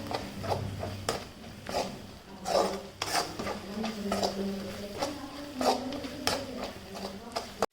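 Chili powder is fried and stirred in oil in a pan for a chicken gravy, with repeated sharp scrapes and clinks of a spoon against the pan over a low sizzle.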